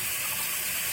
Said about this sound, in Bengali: এবারে রাই বাটার জলটা দিয়ে ঢাকা দিই